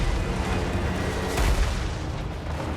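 Mortar artillery in a Warhammer 3 battle, a continuous dense roar of booming blasts and rumbling gunfire, loud and unbroken, with one heavier swell midway.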